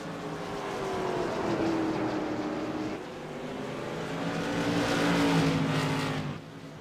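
CRA Modified race cars at a championship race at Irwindale Speedway: loud, continuous engine roar close by, with pitch swelling and falling as the cars power through the turns and pass.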